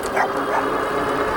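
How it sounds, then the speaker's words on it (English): Dogs bark near a trail beside a fast electric mountain bike on the move, the yapping fairly close and continuous under wind and riding noise. "We got some dogs up here."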